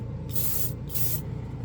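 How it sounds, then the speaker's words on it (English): Titan's Hobby spray can primer hisses out in two close, steady bursts of about half a second each with a short gap between them, loud and alone with no talk. "We'll spray green on the green."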